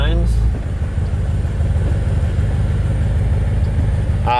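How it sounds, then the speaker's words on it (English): A BMW M6 engine idles with a steady low rumble throughout, close and constant, while the car is repositioned for a photo shoot; a brief voice sounds at the very start and end. "I'm in here just moving the car a gazillion times so that he can get the right shot"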